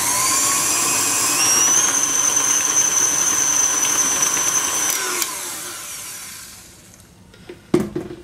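An electric hand mixer whirs steadily through orange creamsicle cheesecake batter, a loud continuous motor whine that holds for about five seconds, then winds down and stops, leaving a few faint clicks and knocks.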